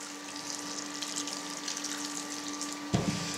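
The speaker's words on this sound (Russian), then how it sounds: "хорошенько промоем ледяной водой, ну холодной водой из-под крана" Cold tap water runs steadily over scalded pork fat in a kitchen sink, a constant moderate hiss and splash with a brief louder splash near the end, with no talking.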